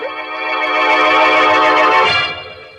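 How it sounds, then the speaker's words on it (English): An old-fashioned telephone ringing in a vintage radio mystery drama, one sustained bright electric bell ring of a few seconds, loud and close, heard alone without any voices. "And then the phone rang again."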